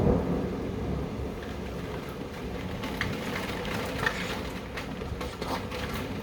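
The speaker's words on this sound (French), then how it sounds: "Là, il y a de la grêle qui tombe." Hailstorm with heavy rain during a June thunderstorm in Alsace, France, a dense, steady roar of falling hail and rain with scattered sharper impacts throughout, loud and close with no voices.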